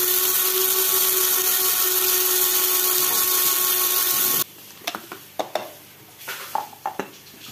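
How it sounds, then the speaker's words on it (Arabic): A ladle of cumin seeds is ground in an electric grinder, its loud, steady high-pitched whir running for about four seconds before cutting off, followed by scattered light clicks and taps. "باش نرحي مغرفة كمون"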